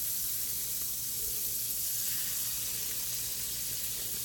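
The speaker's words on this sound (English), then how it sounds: "because I know this pan is hot, I'm going to go ahead and lay those fillets in there" Salmon fillets laid into a hot pan give off a steady, loud broadband sizzle that holds evenly close-up throughout, with no talking.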